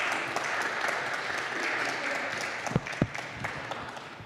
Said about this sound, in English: A round of applause would be most welcome, ladies and gentlemen.